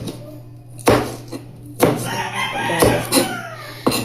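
A knife slices through siling labuyo chili peppers on a cutting board, giving four or five sharp close cuts at uneven intervals while a rooster crows in the background.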